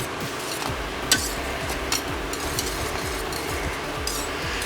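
Grits are stirred with white pepper and salt in a pan off the heat, a spoon scraping in a steady repeating rhythm with occasional sharp clinks against the metal, close and moderately loud.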